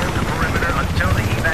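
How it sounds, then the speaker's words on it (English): A helicopter in Battlefield 3 pulls away, its low throbbing rotor wash and engine drone holding steady for a brief moment. "Oh, that chopper just abandoned us."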